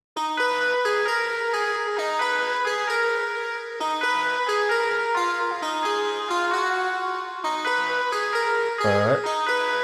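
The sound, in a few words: three layered synth lead presets in FL Studio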